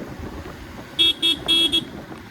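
A vehicle horn honks four times in quick succession behind a truck on a road near Sawantwadi, Konkan, loud and close over a low background of engine and road noise.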